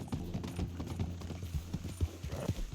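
Horse hooves clip-clop in a steady, even rhythm close by in a video game, with a low background hum and no talk.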